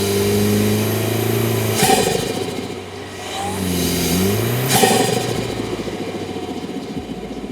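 Toyota 4Runner, sixth generation with a four-cylinder engine and an SXTH Element aftermarket intake, revving twice in sharp rising bursts from a steady idle, the engine note climbing and falling back each time, loud and close with no talking.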